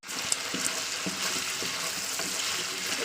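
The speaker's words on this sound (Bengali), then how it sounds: "দেখতে পাচ্ছেন আমি 2 থেকে 3 মিনিট একটু আলুটাকে একটু তেলে ভেজে নিয়েছি" Potatoes frying in hot oil in a kadai, a steady broadband sizzle that runs throughout at moderate level, with occasional soft clinks and scrapes of stirring, no voices.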